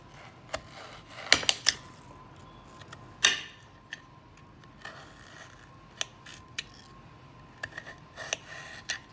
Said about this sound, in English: Cutting a potato is so satisfying.